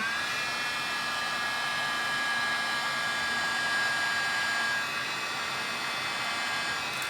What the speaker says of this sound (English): that's where the heat gun comes in handy when you want to dry it a certain way